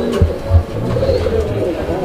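Low pigeon cooing from a long-distance breed of domestic pigeon for sale, a soft throaty coo close by with a couple of stronger pulses, while someone talks over it throughout.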